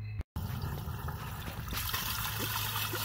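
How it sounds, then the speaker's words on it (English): Water trickling and flowing through a household sewer drain pipe after a toilet flush and running tap, a steady close wash that swells louder partway through, with a brief cut near the start. "going to flush the toilet and run some water"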